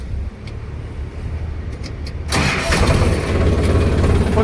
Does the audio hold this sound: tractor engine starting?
yes